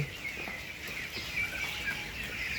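Ducks jostle and call while being fed, a steady close chorus of quacking and clucking with no talk.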